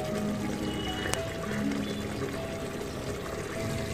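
Hyderabadi mutton salan gravy with yogurt comes to a boil in a pot, giving a steady, even bubbling and hissing wash that is constant throughout, with one brief faint clink.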